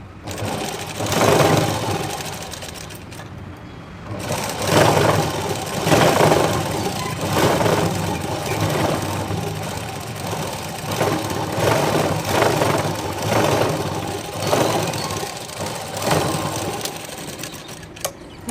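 A sewing machine runs steadily, top stitching a waistband strip on a blouse, with a continuous whirring motor and rapid needle chatter that pauses briefly before resuming.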